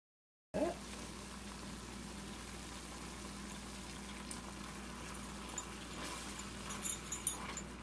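Tomato sauce simmering in a pan for a kids' vegetarian lunch box dish, a steady, soft bubbling hiss that starts abruptly and continues throughout, with faint pops and spits toward the end.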